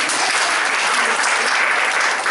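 Church congregation breaking into loud, continuous applause, a thick close wall of clapping hands that holds steady from start to finish with no talk over it.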